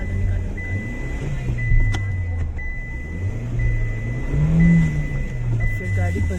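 A car stuck on a snowy road near Shimla, its engine droning and rising in pitch as it revs, steady and fairly close throughout, while people talk over it.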